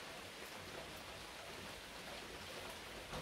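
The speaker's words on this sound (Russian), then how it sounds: "Идет дождик" Light rain falls outdoors in a Baden-Württemberg village in August, a soft, even, faint hiss of drops on leaves that continues steadily without any voices.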